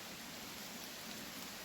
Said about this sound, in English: And that rain's getting heavier